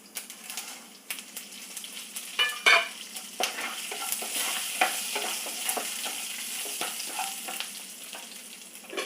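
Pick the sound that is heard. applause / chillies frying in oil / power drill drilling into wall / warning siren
chillies frying in oil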